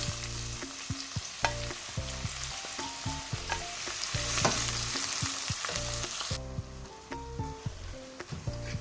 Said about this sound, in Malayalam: ഓയിൽ നന്നായി ചൂടായി വരുമ്പോൾ കട്ട് ചെയ്തെടുത്തിരിക്കുന്ന 4 സവാള ഇട്ട് കൊടുക്കുക.